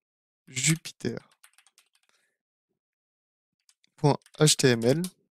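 Keys on a computer keyboard tapped out to enter a git command, a brief run of light clicks falling between stretches of nearby talking.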